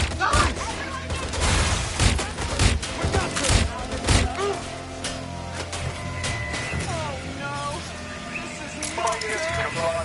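Gunfire in the video game Watch Dogs Legion, loud rapid bursts and thuds crowding the first four seconds, then fading under game tones and a voice.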